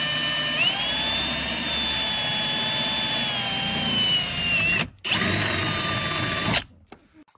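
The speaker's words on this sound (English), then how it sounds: "drill a hole, route the cables" A power drill runs loud and close with a high, steady whine, drilling a hole in a vehicle dashboard, cuts out for a moment, then whirs again before stopping.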